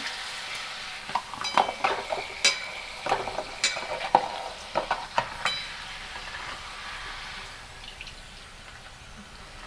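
Spinach papad sliding into hot oil crackles and sizzles, with a run of sharp popping bursts in the first half that ease into a steady, softer fry.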